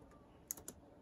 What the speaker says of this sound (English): So what we're going to do is type xcopy